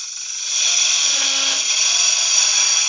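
A Forstner bit bores into wood for a lidded box, a steady high-pitched whine of the drill that rises in level after the first half second and holds constant to the end, with no talking.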